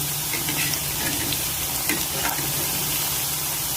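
Suji (semolina) rings deep frying in hot oil, a steady dense sizzle and bubbling throughout with faint scraping as they are turned, close and fairly loud with no talking.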